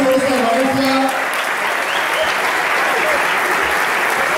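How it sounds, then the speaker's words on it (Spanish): Sustained audience applause fills a hall at a Valencia CF supporters' clubs convention, dense and steady throughout, with faint voices and a brief shout early on mixed into the clapping. "Un aplauso para la mañana de hoy."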